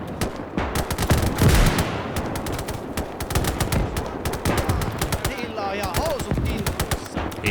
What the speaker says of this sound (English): He's taking fire all right. You see all the bullets impacting the concrete structure.